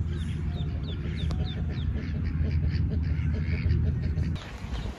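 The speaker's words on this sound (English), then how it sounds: "I love ducks." Ducks give a short run of quacks and calls outdoors, fairly faint over a low, rumbling background.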